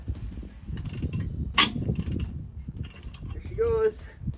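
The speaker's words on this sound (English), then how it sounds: "I'm just gonna try the 18 mil 1/2 inch ratchet" Metallic clicks and creaks of a half-inch ratchet with an 18mm socket loosening a bolt under strain on a Ford Ranger, a few strokes with a sharp snap midway, low rumble and voices in the background.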